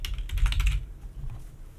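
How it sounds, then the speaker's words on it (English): Rapid keystrokes on a computer keyboard while working in Houdini software, a dense burst of clicks for under a second, then quiet with a few faint taps; no speech. "So I'm going to type in fitted curvature."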